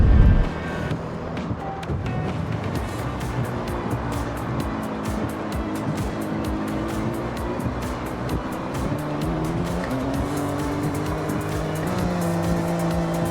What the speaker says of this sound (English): do a spin of our car using the wheels. Let me go into a off-road track.